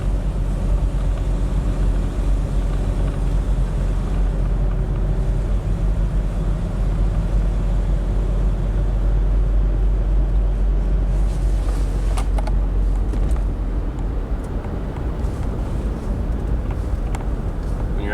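A Mitsubishi Montero 4x4 engine runs steadily with a deep, even low rumble throughout, close and fairly loud, with a slight shift in tone and a few faint clicks near the end.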